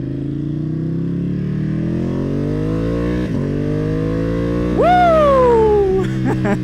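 A 2020 Ducati Panigale V2 sport motorcycle revs up close and loud, its engine note climbing steadily through several gear-like pulls, then a sharp high rev flares and falls away before the engine settles back.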